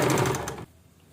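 A sewing machine stitches piping onto a blouse jacket in a short fast burst of rapid, even needle clatter, close and loud, then stops abruptly into near silence.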